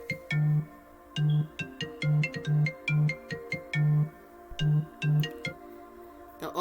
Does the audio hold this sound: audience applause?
no